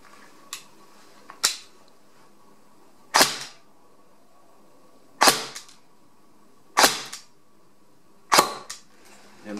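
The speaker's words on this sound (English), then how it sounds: "let me do just a couple of shots through the chrono just to see at which power my AS Val operates right now." An AS Val airsoft rifle fires six single shots of 0.25 g BBs through a chronograph. Each is a sharp, close crack, spaced unevenly over a quiet room background with no talking.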